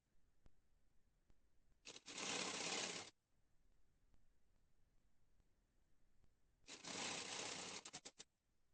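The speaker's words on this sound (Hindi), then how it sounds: "अब इस पे भी हमको रफ सिलाई लगा लेना है" A sewing machine runs rough tacking stitches along a kurti in two separate bursts of a couple of seconds each, the second ending in a few quick stuttering stops, with a quiet room in between.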